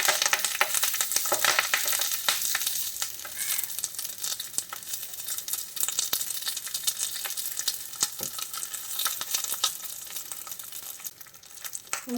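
Kerala-style karimeen pollichathu, pearl spot fish wrapped in banana leaf, frying in hot oil on a tawa, with loud, dense crackling and spitting that runs on steadily throughout.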